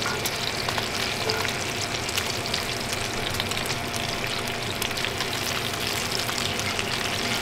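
Food sizzles and fries steadily in a Henckels HXagon hybrid non-stick pan, a dense, even crackle that holds at a constant level throughout with no talking.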